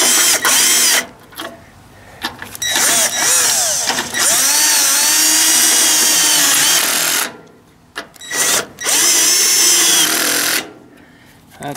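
A power tool rattles and whines in loud bursts while tightening homemade bolts on the exhaust of a Ford 800 tractor, its ratcheting stopping and restarting several times with short quiet gaps between runs.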